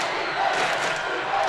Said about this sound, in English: the crowd is just thumping here tonight in the auditorium